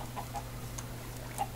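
A few short clucks from Minecraft chickens, faint and scattered over a steady low background hum.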